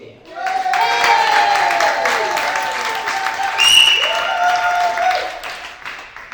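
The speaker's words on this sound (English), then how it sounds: "Can we give a very low key, he's advised me, a low key applause in Springs manner to Mr. Mike Waterfield." An audience at a community storytelling event gives a warm round of applause, dense and fairly loud throughout, while a voice talks over the clapping and tonal feedback or music sits beneath it.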